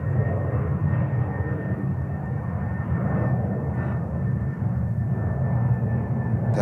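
Aircraft taxiing on the ground at JFK airport, a steady low engine rumble with a faint whine holding evenly throughout, fairly close and continuous with no talk.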